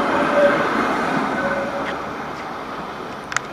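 A tram rolls past on a city street in The Hague, in front of the Dutch Parliament, a steady rumbling rush with faint rail clatter that fades slowly, followed by a couple of sharp clicks near the end.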